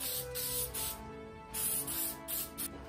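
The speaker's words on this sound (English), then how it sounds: "It's just Super 77 spray glue." Super 77 spray glue hisses from an aerosol can in several bursts of varying length, close and steady, with brief pauses between sprays.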